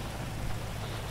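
Steady hiss of rain falling in GTA V with the LSPDFR mod, a dense, even wash of noise with a low rumble beneath, continuous and close, no talk.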